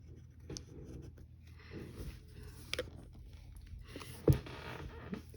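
Pencil sketching a wave shape on paper for a cartoon drawing, making soft, intermittent scratchy strokes up close, with a sharper tap partway through.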